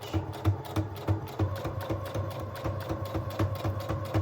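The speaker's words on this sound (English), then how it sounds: "I'm just using my regular sewing machine, regular needle, and right now I'm doing a straight stitch" A sewing machine runs steadily, its needle thumping in a fast, even mechanical rhythm, close by with no talking.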